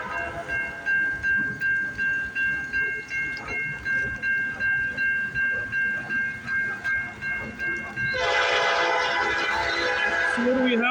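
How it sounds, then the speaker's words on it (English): A westbound CN freight train rolls past on a foggy, rainy morning, its wheels giving a steady rhythmic clatter over rail joints with a sustained horn-like tone, then a louder, denser roar of cars passing close in the final seconds. "we got a CN westbound train coming down the line"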